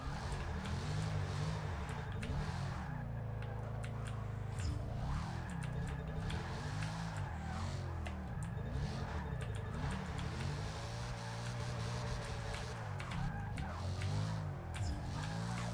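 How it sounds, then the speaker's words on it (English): A car engine in Forza 6 Apex drones continuously, its pitch rising and falling with revving and tire squeal layered over it, loud and close throughout. "I also revved it a little, over-revved it just a little bit there"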